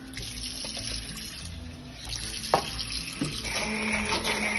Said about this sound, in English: we can add a little bit of water